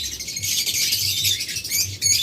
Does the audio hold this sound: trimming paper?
no